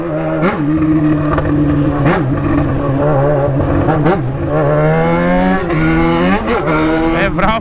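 A loud motorcycle revs and accelerates close by, its engine pitch climbing repeatedly in surging waves with brief gear-shift dips, steady and unbroken throughout.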